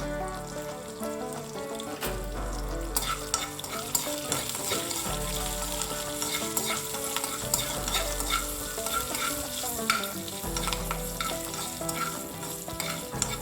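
Mustard seeds, chana dal, green chillies and curry leaves tempering in hot oil, a loud continuous crackling sizzle with spattering pops and stirring scrapes throughout, and no voices.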